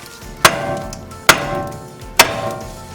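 Three sharp hammer blows strike the tie rod end on a Jeep Wrangler YJ, spaced under a second apart, each a loud metallic crack that rings briefly, with no talking.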